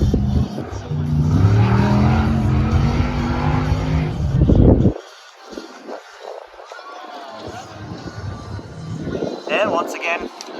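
A race car engine roars loudly at King of the Hammers, then fades as it pulls away from the pits onto the short course, leaving quieter distant engine sounds and a brief whine near the end, with some talk.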